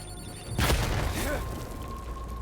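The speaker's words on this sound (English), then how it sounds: "Hey, that's a fucking grenade." A grenade goes off in the video game Death Stranding as a single deep boom with a low rumbling tail that fades slowly, heard amid game sound.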